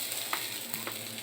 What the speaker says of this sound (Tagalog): Ilagay ko yung pansit. Para uminit yung pansit.